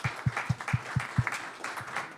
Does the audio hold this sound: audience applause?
yes